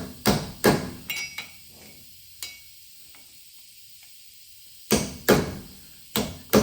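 A heavy-duty scraper pries and taps at a hub dust cap on a 2008 Silverado 1500 4x4, giving sharp metallic knocks and scrapes in irregular clusters, separated by a nearly silent stretch.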